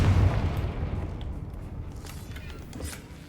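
Confringo explosive spell blast in the Hogwarts Legacy video game, a low booming burst at the start that decays into rumbling game noise, with no talk.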